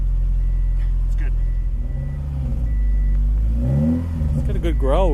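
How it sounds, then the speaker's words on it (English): A car engine with a bad exhaust rumbles loudly at close range, its low growl rising and falling as it is revved, while people talk over it. "It's got a good growl with a bad exhaust."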